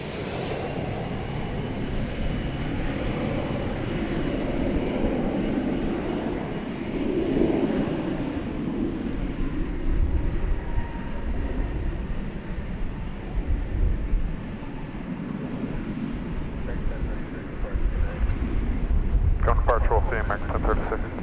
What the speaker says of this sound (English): Coming in for a landing from San Francisco, American Flight 3293 and Airbus A321 here on Runway DFW After Dark.